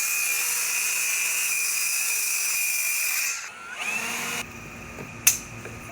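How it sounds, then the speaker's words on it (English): A power tool runs with a high steady whine while cutting a guide board, then cuts off around the middle, followed by quieter handling noises and a sharp knock near the end. "right now I need to cut this guide board down"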